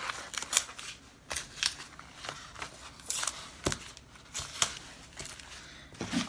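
Tearaway embroidery stabilizer is pulled off a hoop in a series of quiet, close ripping tears, short crisp bursts repeating irregularly about a dozen times.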